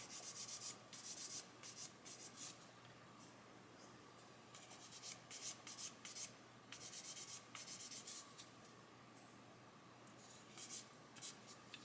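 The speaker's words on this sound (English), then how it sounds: "I'm just going to keep sanding that until that glossy bit disappears," Quiet, rhythmic scratchy rubbing of sandpaper on a small plastic model part, in short bursts with brief pauses, close up and alone.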